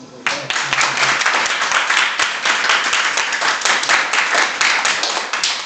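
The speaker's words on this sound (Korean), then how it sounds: "오늘 수고해준 선생님을 위해서 박수 한번 쳐주세요" A school science lecture audience claps for the teacher, a brisk burst of many hands starting abruptly after a brief voice and continuing steadily and loudly to the end.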